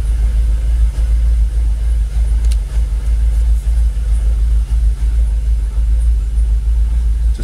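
A Jaguar XKR engine idles at roughly 800 to 900 RPM with its bonnet open, making a loud, steady low rumble with a slight rhythmic pulse, heard close and continuous with no talk.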